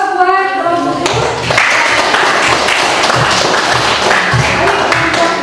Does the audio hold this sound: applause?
yes